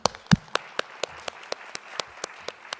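A few people in a board of education meeting room clap slowly and sparsely, with distinct individual claps spaced evenly about a quarter second apart, fairly faint and close.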